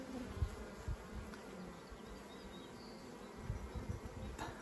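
A honey bee swarm that has moved into a hive left with equipment in an apiary hums steadily with a soft, low buzz, a few nearer bees passing close to the microphone over the constant drone.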